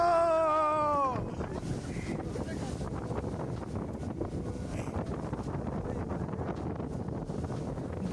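A boat ride on a lake in Nuwara Eliya, dominated by steady rushing wind buffeting the microphone and a continuous motor drone, with a brief tonal sound fading out at the start.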